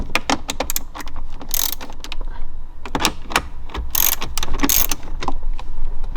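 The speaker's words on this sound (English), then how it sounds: "To remove the head unit, pull the 7mm bolts out of all 4 locations." A ratchet backs out 7mm bolts holding a Jeep Wrangler JK head unit in the dash, with bursts of sharp, close clicking strokes, brief pauses and a few metallic rattles.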